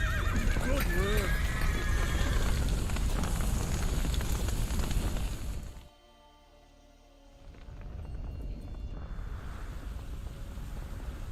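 A horse in The Witcher 3: Wild Hunt whinnies loudly near the start amid crackling fire and game noise; the sound briefly drops out, then the background of fire, wind and clip-clop resumes.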